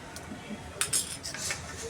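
A spoon clinks and scrapes against a bowl while spices are stirred into yogurt and jaggery, giving a few light metallic taps close by in a quiet kitchen.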